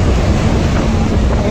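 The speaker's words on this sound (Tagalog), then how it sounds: "Malalaking alon." Big waves churn and wash loudly during an outrigger boat race at sea, a dense, steady roar of surf mixed with wind buffeting the microphone, with no clear breaks.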